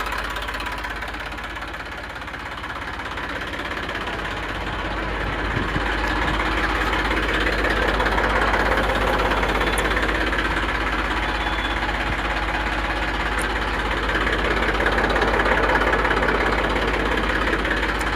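A diesel tractor engine, a 42 HP Eicher 380, idles steadily with a low, continuous rumble and a faint knocking rhythm, close by and with no voices.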